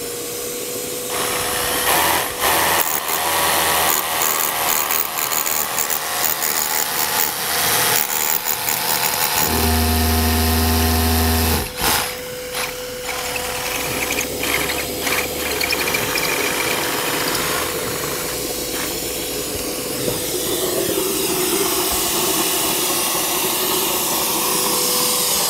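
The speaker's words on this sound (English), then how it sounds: "Turn my vacuum on." A vacuum used with a Milwaukee dust trap while drilling: a loud, steady motor drone with a constant whine runs throughout, briefly interrupted by a harsher mechanical rattle, then continues.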